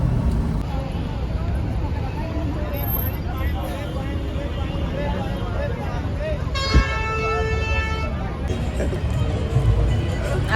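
Road traffic heard from a moving bus in Jaipur, with a steady low rumble, chattering voices and a sustained car horn honking near the end, plus scattered short toots.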